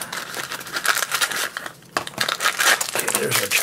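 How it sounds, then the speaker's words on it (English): Plastic crinkling and snipping as scissors cut open a Teen Titans blind pack bag, a close, busy run of crackles with a short pause midway and talk over it. "she can make a little cut on our Teen Titans bag"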